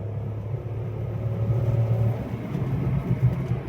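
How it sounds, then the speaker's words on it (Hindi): Car engine pulling uphill in third gear, a steady low rumble with a faint rising whine as it accelerates, continuous and fairly loud with no talk. "इंजन की साउंड भी इसकी एकदम रॉ है"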